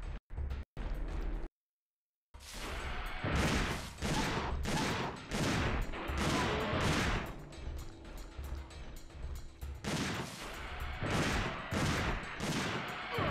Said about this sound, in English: I'm shooting a shotgun, too.